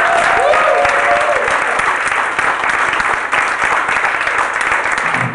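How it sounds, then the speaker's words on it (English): Audience applause at Comic Strip Live, a New York City comedy club, a steady wash of clapping hands filling the room for the whole stretch, with a brief voice over it near the start. "It's all a round of applause."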